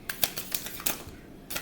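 A deck of cards being shuffled: quiet, close riffling clicks and soft flutters in a few short bursts, with no voice.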